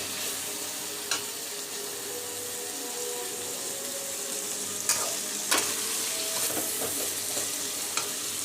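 Food sizzles steadily in a hot pan while being stirred, a constant close frying hiss with a few sharp clinks of a utensil against the pan.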